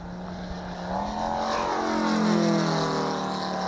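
A radio-controlled model aircraft at a flight line at Old Rhinebeck Aerodrome, its small engine droning and rising in pitch as it passes, with a steady propeller buzz and a sweeping Doppler-like shift over several seconds.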